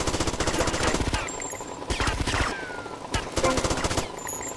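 Automatic gunfire from a weapon in Grand Theft Auto: Vice City, with rapid bursts of shots alternating with short pauses, loud and close over game background sound.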